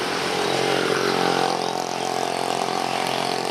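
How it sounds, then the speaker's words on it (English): Motor scooters pass on a street in Vietnam as school lets out, a loud, close, continuous engine drone that holds steady for several seconds. "Here come the motor scooters."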